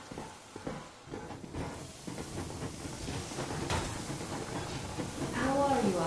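A steam train in Metro Exodus rolls along with steady hissing steam, rumbling wheels and clanking rail noise that grows louder toward the end, with a brief voice near the close.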